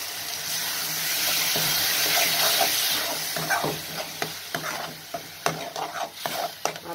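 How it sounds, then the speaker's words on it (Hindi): Tomatoes go into a pan of browned onions for rajma, sizzling steadily as a spoon stirs and scrapes through them in repeated close, clattering strokes. "प्याज जो है इसे मेरे ब्राउन हो चुके हैं। अब मैं इसमें डाल दूंगी टमाटर।"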